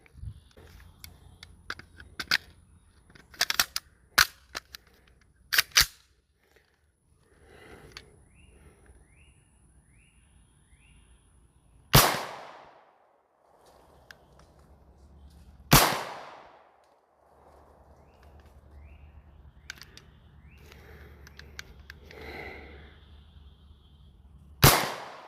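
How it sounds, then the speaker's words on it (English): Gunfire from a Manchester Arms Mini Commando .45 Tommy gun clone at an outdoor range: a quick burst of sharp cracks, then scattered single shots and two loud isolated reports, with quieter gaps between. "Anyways, let's go shoot another mag."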